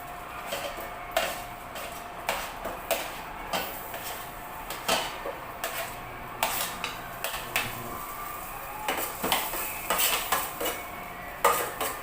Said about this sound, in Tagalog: isosatay lang natin si garlic at onion hanggang sa mag-light brown si onion